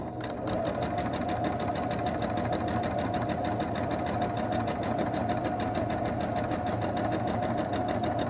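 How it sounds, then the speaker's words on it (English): A sewing machine chain-pieces quilt block pieces, its needle hammering in a fast, even rhythm with a steady motor hum, running continuously and close with no talk. "I'm just chain piecing."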